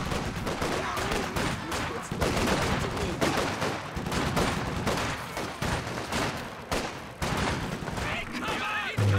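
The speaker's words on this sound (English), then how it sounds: "And incendiary grenade." Gunfire and an incendiary grenade in the video game Company of Heroes 2 crackle in rapid, overlapping bursts of shots and blasts, with a voice talking over the battle throughout.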